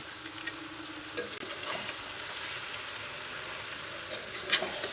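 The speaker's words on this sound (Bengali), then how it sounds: "গুড় দিয়ে আবারও নেড়ে ছেড়ে ভালোভাবে মিশিয়ে নিব" Jaggery being stirred into hog plums in a pan, a soft steady sizzle with a few scraping stirs of a spoon, close and fairly quiet, with no talking.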